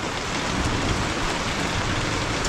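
Steady rain pours down outdoors over a vegetable patch of bitter melon plants, a dense even hiss that fills the whole clip with no pauses and no voices.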